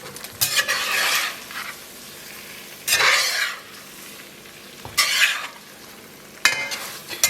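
Sauce poured and stirred into spaghetti cooking in a pan for vegan spaghetti all'assassina, sizzling in four loud bursts of scraping and frying that fade back to a low hiss between them.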